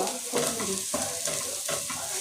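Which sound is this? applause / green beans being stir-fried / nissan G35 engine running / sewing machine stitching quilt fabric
green beans being stir-fried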